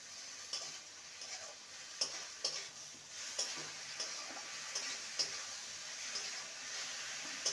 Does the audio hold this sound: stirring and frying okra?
yes